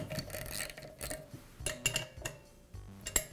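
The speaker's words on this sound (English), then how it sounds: "Now I can get a socket wrench onto it. And I'll go ahead and unthread it from the manifold." A socket wrench works a safety valve loose from a Bostitch air compressor manifold, giving sparse metallic clicks and clinks of the ratchet, close and fairly quiet.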